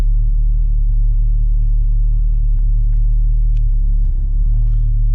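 A 600hp turbocharged Honda Civic Si engine runs at a steady, loud, heavy rumble close by, with a faint hiss hinting at turbo spool and no clear sharp revving.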